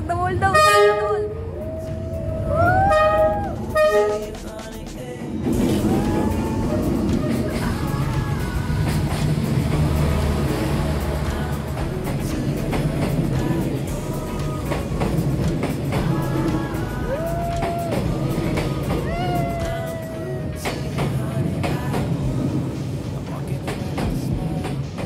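A train rolls slowly past close by along Hanoi's narrow Train Street, its horn tooting repeatedly at the start and a long rumbling roar of carriages following, with tourists talking over it throughout.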